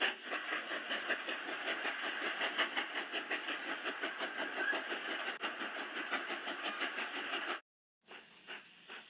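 A model train engine chuffs along in a steady rapid rhythmic pulse, close and moderately loud, then cuts off abruptly before a few faint clicks.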